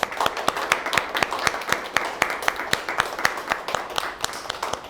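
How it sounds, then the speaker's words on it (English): Audience applause for panelists at a talk on highway expansion and Indigenous communities, a steady run of distinct claps from a modest crowd, moderately quiet. "can we have a round of applause for our panelists?"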